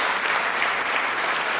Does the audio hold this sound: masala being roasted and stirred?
no